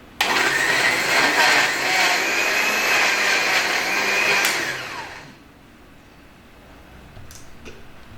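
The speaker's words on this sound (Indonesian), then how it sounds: "Blender." A kitchen blender grinds white spice paste for a fish dish with a loud, steady whir that lasts about five seconds and then winds down, leaving quiet room tone and a couple of faint clicks.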